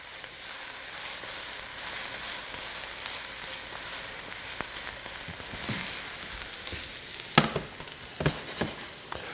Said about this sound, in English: Probably about another minute of actually sauteing the eggplant, onion, and garlic together